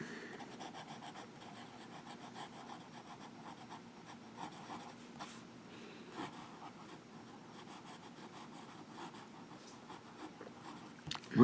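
A Lamy Safari fountain pen with an extra fine nib scratches steadily across paper, a continuous dry scritching with small strokes and taps, close and quiet with no talking.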